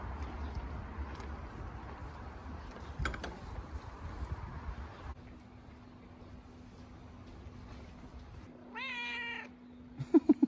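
A friendly cat meows near a horse stable, one clear rising meow partway through and a final rapid run of short meows at the end, over low mechanical hum and rustling.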